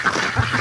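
Farm ducks let out of winter lockdown quack in a brief, close burst of overlapping calls against a noisy outdoor background.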